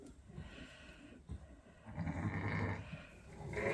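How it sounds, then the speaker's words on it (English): Sheep and triplet lambs bleat on a farm, a few quiet calls followed by a louder, sustained chorus of bleating near the pens. "So these are the triplet lambs."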